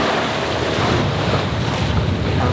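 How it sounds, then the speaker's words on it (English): Sailboat out on open water with strong wind buffeting the microphone and waves rushing against the hull, a loud, continuous roar with no voices. "The wind's picked up a little bit."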